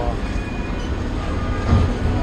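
Low rumbling of a train at a platform in Istanbul, Turkey, a steady mechanical drone with a slight swell near the end, and faint voices in the background.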